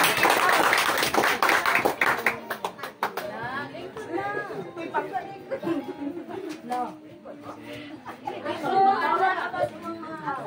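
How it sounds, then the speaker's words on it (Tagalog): A family reunion crowd claps to welcome Manang Pangga, a burst of applause at the start fading into chatter, with scattered claps continuing under the voices. "Atong sugaton si Manang Pangga sa masipa kay nga palakpak."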